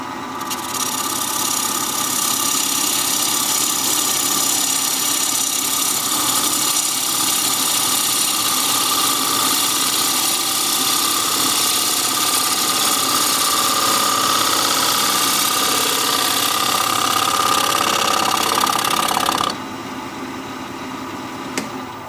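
A wood lathe spins a wooden bowl being trued up from the side, a steady, loud mechanical hum and whir with a continuous cutting hiss that runs unbroken, then drops abruptly to a lower, quieter drone near the end.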